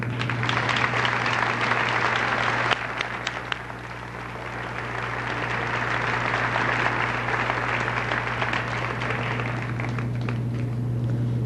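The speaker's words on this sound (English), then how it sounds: "Would these students please rise for a big round of applause for 8th grade students who received the Student of the Month?" An audience at a junior high graduation ceremony applauds the 8th grade Student of the Month recipients: sustained, dense clapping from a large crowd in a hall, steady throughout over a low electrical hum.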